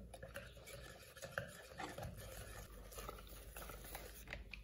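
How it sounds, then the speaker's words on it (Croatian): A spoon stirs and scrapes a mixture of flour, salt and dough in a bowl for a chocolate kuglof batter, soft and continuous with faint clinks of utensil against the bowl. "Sada ćemo to sve da sjedinimo."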